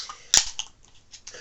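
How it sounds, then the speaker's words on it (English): A can of San Miguel beer cracks open with one sharp, close snap followed by a brief hiss and faint fizzing, with small clinks afterward. "This is the first opening a second can."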